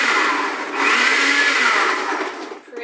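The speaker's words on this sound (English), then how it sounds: "never plug in your blender until you have everything in and the lid on" A blender chopping relish whirs steadily at high speed, a loud dense grinding roar that holds for a few seconds before briefly dipping near the end.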